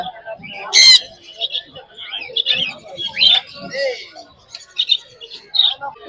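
African lovebirds at a busy Sunday pet market, giving sharp, scattered chirps and squawks up close, with a faint murmur of activity underneath.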